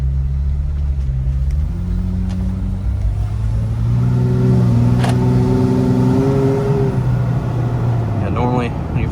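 Jeep Wrangler JK with a new aftermarket exhaust pulling away in low gear, a deep rumbling engine note rising steadily as it accelerates, with someone talking over it.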